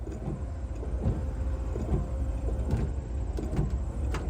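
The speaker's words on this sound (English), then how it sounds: "The washer does work, but there is no fluid." A small electric windshield washer pump on a 1970 Dodge Coronet Super Bee hums and whirs close by, running with no fluid, with faint clicks and mechanical rattles along the way.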